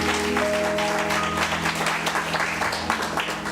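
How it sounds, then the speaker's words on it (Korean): A church congregation applauding during a Sunday service, a dense, continuous wash of clapping from many hands filling the room, with faint voices and a sustained musical tone underneath. "사랑과 격려의 박수로 좌우에 있는 분들을 축복하겠습니다."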